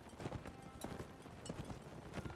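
Galloping horses in a Mount and Blade Warband battle against mounted bandits, a steady rapid clip-clop of hooves drumming on and on at close range, with no talking over it.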